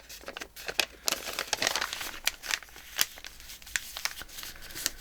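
A paper wine bag is being folded at its bottom edge, giving close, quiet crinkling and crumpling with scattered sharp rustles and taps at an uneven pace.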